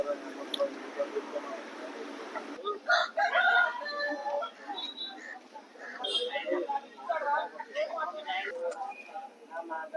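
Young roosters crow several times at a busy Nandigama livestock market, loud and close, amid chatter, clucks and general crowd bustle.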